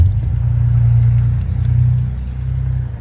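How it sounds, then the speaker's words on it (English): Heavy road traffic diverted from a closed main expressway rumbles past nearby, a loud, continuous low engine drone that swells and eases slightly as cars pass, with no talking. "Hopefully that traffic's not too loud."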